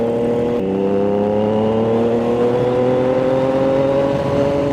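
A 2025 Triumph Trident 660 motorcycle cruises along a quiet provincial road, its engine a steady, loud hum that slowly rises in pitch as it accelerates, with no pauses throughout.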